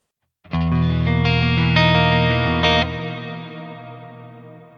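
A sustained, distorted electric guitar chord with a few picked accents, through a Neural DSP Nano Cortex cave reverb, washed in deep cavernous reverb that lingers and slowly decays.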